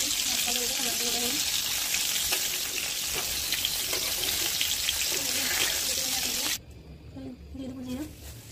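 Small fish fry in hot oil in a pan, a dense, loud hiss and crackle filling most of the clip before dropping to a softer sizzle, with a voice talking intermittently over it.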